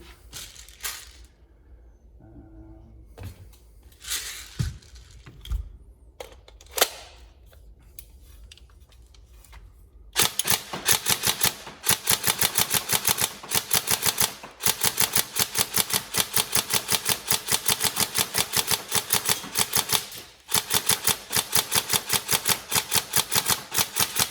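Upgraded Tokyo Marui MK18 NGRS airsoft rifle, first a few scattered clicks and mechanical handling noises, then long rapid full-auto bursts of loud, evenly spaced cracking shots with only short gaps between strings.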